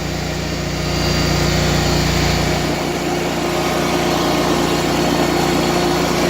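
A riding lawn mower engine runs in a steady, loud, close drone that holds for the whole stretch, with no talking over it.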